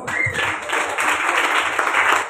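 Applause from a gathering at a prayer group's fellowship meeting, a crowd clapping steadily and fairly loudly, with a brief tonal sound near the start before the clapping fills out evenly.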